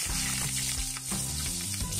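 Panch phoron spices crackling and sizzling in hot oil in a pan, a steady, dense frying hiss close up, with no talk over it.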